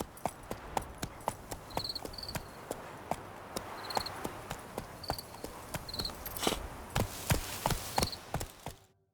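Roach the horse gallops in The Witcher 3: Wild Hunt, a steady run of clip-clop hoofbeats on the ground that grows louder and quicker toward the end, with faint insect chirps behind.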